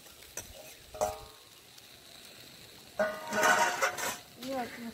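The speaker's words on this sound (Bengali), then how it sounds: "এবার আমি ওই ভেজে রাখা উচ্ছে আর বেগুনটা দিয়ে দেবো।" Fried bitter gourd and eggplant hit a pan of shukto with a short burst of sizzling and stirring, loud for a second or two after quieter kitchen clatter.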